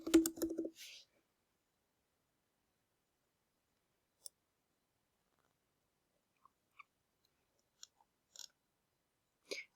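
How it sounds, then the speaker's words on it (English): Sparse, faint key clicks from a computer keyboard as text goes into a search box, spread out with long quiet gaps after a brief louder burst at the start. "I'm going to type Cape Wrath into the search box."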